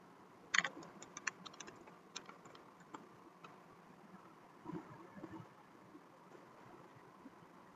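Scattered keystrokes on a computer keyboard while Cisco router commands are typed, quiet, close clicks in short irregular bursts over a soft room hiss.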